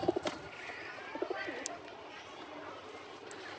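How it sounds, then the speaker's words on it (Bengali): A Kalshira pigeon coos softly in a loft, a few short low coos near the start and again around the middle, with faint background noise between. "কবুতরটি কালশিরা কবুতর।"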